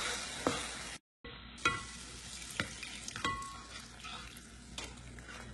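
Flour roux being stirred in a pot as stock is poured in bit by bit: steady scraping and swishing with soft sizzling, a brief gap, then sharper clinks and scrapes of the spoon against the pan.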